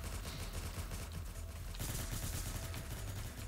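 Gunfire in the Roblox spy game, rapid continuous shots and bursts like automatic weapons, dense and steady across the whole stretch.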